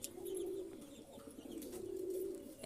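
Pigeons, including racer, fantail and grizzle birds in a loft, coo in two soft, rolling phrases, faint and nearby, with no talk over them.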